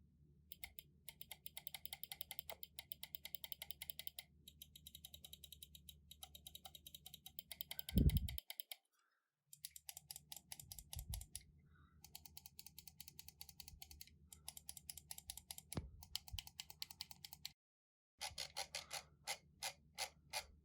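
Button clicks from a Vaxee Outset AX gaming mouse, recorded up close with no talking: quick bursts of sharp, crisp clicks in steady rhythm, broken by a few brief silent gaps and one or two louder thumps.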